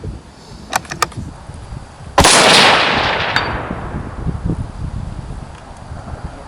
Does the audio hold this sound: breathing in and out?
no